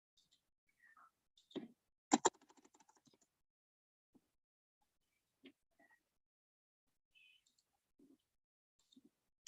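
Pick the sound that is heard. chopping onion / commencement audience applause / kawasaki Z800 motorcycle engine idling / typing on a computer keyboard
typing on a computer keyboard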